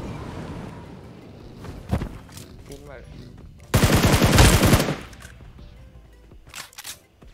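Gunfire in PUBG Mobile: a sharp isolated shot, then a dense burst of automatic fire lasting about a second, with a few scattered shots afterward over faint background noise.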